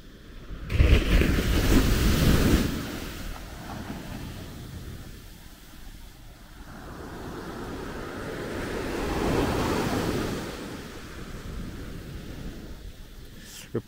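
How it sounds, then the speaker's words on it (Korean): Strong dry-season surf breaks at Natai Beach in Khao Lak, a loud crash near the start followed by a steady, rolling wash of waves and wind noise. "파도가 건기인데도 만만치 않습니다."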